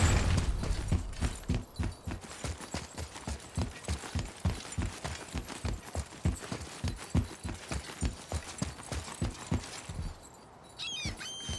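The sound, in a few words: horse hooves clip-clopping in God of War video game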